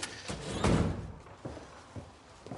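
A back door closing in an early twentieth-century home, heard as one heavy thud followed by a few softer knocks, set against low room noise with no talking.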